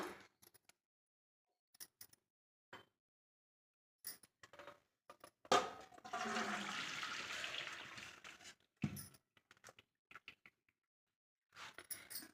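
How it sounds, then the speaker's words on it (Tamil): Water pours and splashes steadily for about three seconds, a close, gushing drain of water from boiled horse gram through a strainer, with brief clinks and handling noises before and after. "தண்ணி இல்லாமல் நல்லா வடித்து எடுத்துக்கலாம்"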